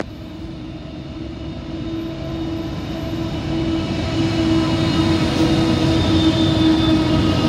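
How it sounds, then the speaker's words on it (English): A Pacific National intermodal freight train led by an NR class locomotive rolls past at Chester Hill, a loud, steady rumble and rail roar that builds slightly and holds throughout, with no voices. "The leading loco is NR1, the only loco."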